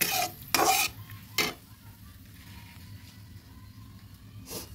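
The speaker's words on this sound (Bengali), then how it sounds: "ভালোভাবে মিশিয়ে নিচ্ছি" Curd being stirred into katla fish curry in a pan: a few loud scraping strokes of a spoon near the start, then a quiet simmering background and one more scrape at the end.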